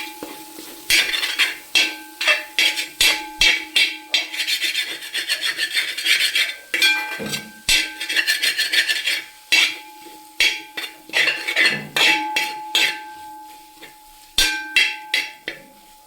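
A spatula rasps and scrapes repeatedly across a cooking pan as spiced masala is stirred, with brisk rhythmic strokes in bursts, loud and close, over a faint steady hum.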